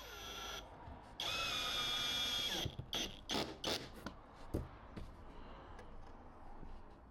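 A cordless drill drives Phillips screws into wooden jig runners, giving a loud sustained whir that stops abruptly, followed by several short bursts and clicks as each screw is seated, heard close up.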